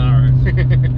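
Original V8 Holden Kingswood HQ with a T5 conversion, its engine droning in a loud, steady low rumble close by, briefly, with faint pulsing on top.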